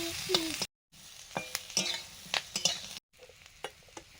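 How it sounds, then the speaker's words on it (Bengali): Vegetables for a veg jalfrezi frying in a pan up close, with intermittent spatula scrapes and clatters over a soft sizzle, broken by two brief silent gaps. "সবজিগুলো ভাজা হয়ে গেছে"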